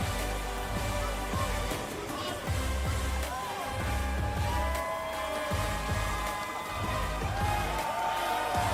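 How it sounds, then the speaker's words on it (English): Crowd at an Overwatch League esports playoff event cheering and applauding, a steady roar of many voices and claps filling the arena under thumping low booms, no clear single speaker. "Giving a round of applause to the Boston Uprising"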